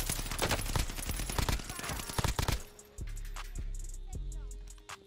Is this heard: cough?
no